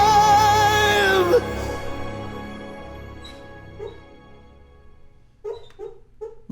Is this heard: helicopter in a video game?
no